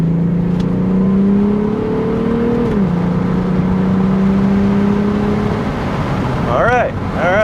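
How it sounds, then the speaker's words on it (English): A supercharged VW Corrado engine revs under throttle, a steady loud drone climbing in pitch, dipping, then holding, heard from inside the car, with a brief squeal near the end. "So let's go ahead and lay into some throttle."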